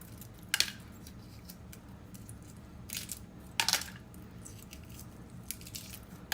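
The shell comes off a boiled egg cooked in a Power Pressure XL pressure cooker with a few quiet crackles and crunches, two sharper bursts standing out against a faint low hum.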